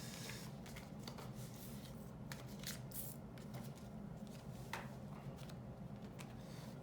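Lenormand cards shuffled by hand for a love reading, a soft papery riffle and brushing of cards running steadily and close up against a low background hum, with no talking.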